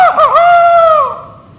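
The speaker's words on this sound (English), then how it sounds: "Roosters." A single loud rooster crow close by, a rising strained call held for about a second before it trails off, with nothing else around it.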